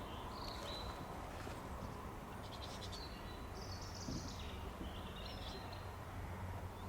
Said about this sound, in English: Just the bird song. Just birds. That's all you can hear.